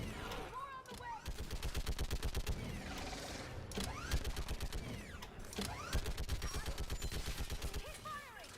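Rapid automatic gunfire in the sci-fi shooter Mass Effect Legendary Edition, sustained bursts with mechanical clatter and whooshing projectiles, loud and dense, with voices calling out over the shooting.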